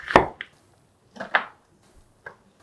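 Knife chopping through half an onion into thin strips on a cutting board: a few sharp, separate cuts in quick pairs with short pauses between them, close and fairly clear in a quiet kitchen.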